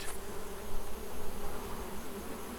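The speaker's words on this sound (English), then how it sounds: "There are still a few bees about," Bees buzz around a donut in a point-and-click adventure game, a dense, steady swarm drone that is close and continuous, with no talking.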